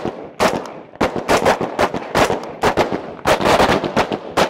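A carbine fires in rapid, loud, sharp cracks during a practical shooting drill, with bursts of shots from several shooters overlapping at an outdoor range.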